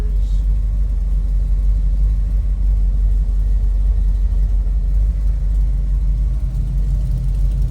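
A 1956 Willys Jeep engine with headers and side-exit exhaust idles steadily, a loud, close, deep rumbling burble holding even throughout with no revving.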